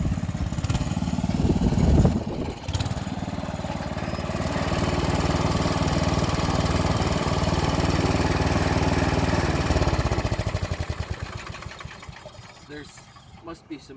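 Sears Suburban garden tractor engine running steadily while a mid-mounted blade scrapes and levels tilled earth, a loud constant drone that fades toward the end with a voice speaking over it.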